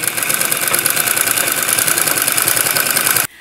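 A sewing machine stitches a line of fabric for a skirt-and-blouse style frock, running loud and close with a rapid, even mechanical chatter for about three seconds before stopping abruptly.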